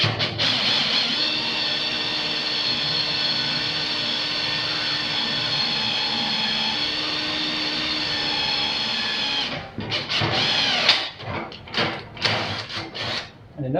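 A power drill whirs steadily for several seconds while rebuilding a radius arm shock mount on a 1968 Ford F250, then stops and gives way to short bursts and clattering.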